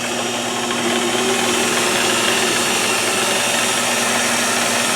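A Harbor Freight machine running with a new drive belt gives a steady, moderately loud mechanical hum and whir that stays even and unbroken throughout.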